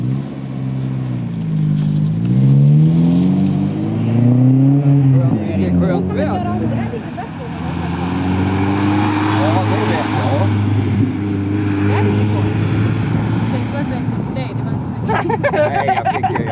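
A car's engine hums and revs steadily during a driving lesson, with the pitch rising and falling early on while several people talk over it throughout.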